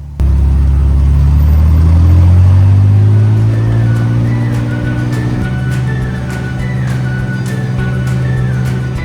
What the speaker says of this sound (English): With the engine fired up, it was time to take my own personal flying taxi back to Boise.